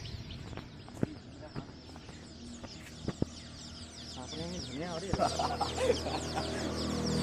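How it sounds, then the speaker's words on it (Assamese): Young chicken chicks cheep in quick, high, overlapping chirps while a person talks nearby, with occasional knocks and a rising background murmur. "এয়া হৈছে আমাৰ কুকুৰা পুলি।"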